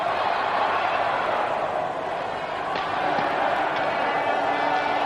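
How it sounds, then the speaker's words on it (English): A crowd in the hockey arena at a 1991 Sweden versus USA friendly ice hockey game keeps up a continuous, even roar of cheering, with faint thuds now and then. "And the crowd's woken up again as we reach the halfway mark in the third period."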